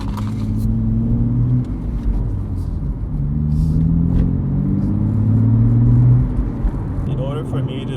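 A 2023 BMW M3 with a manual gearbox drives at night, its engine giving a steady low rumble that rises and falls with gear changes, heard from inside the cabin with faint noises over it.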